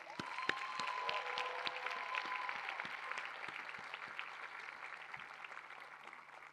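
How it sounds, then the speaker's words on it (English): Sustained audience applause fills a hall at a doctoral hooding ceremony, an even wash of many hands clapping at moderate distance with occasional distinct claps standing out and almost no talk. "let's give them a big round of applause"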